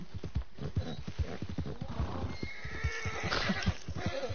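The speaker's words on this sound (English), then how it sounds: "Get on your horse and follow the waypoint." A horse in the video game Red Dead Redemption 2 whinnies over a busy mix of hoofbeats and other game sounds, with the neigh rising toward the end of the clip.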